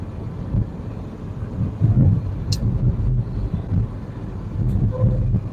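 A car cruises on a long cross-country drive, giving a steady low road rumble with wind noise and a couple of faint clicks.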